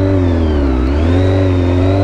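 A car engine holds a steady mid-range drone as it is blipped and revved during a downshift, the pitch dipping and rising again, loud and close throughout with no talking.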